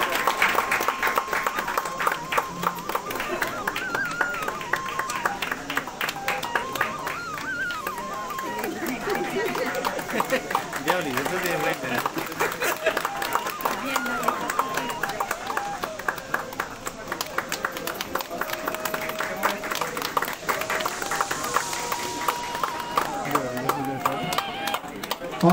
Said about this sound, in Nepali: सबैजनाले ताली बजाएर सम्मान गरिदिनुको लागि हार्दिक अनुरोध गर्दछु।